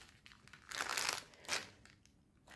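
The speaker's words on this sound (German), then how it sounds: "Ich nehme das jetzt gleich mal raus, denn sonst kann man durch diese Zip-Tüte das Motiv nicht so gut erkennen." Plastic zip bag from a cross-stitch kit crinkles and rustles in two soft bursts as the kit is pulled out, close by and quiet.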